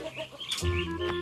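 A chicken clucks in Minecraft Pocket Edition, a short burst of close, clear clucking calls with no talk over it.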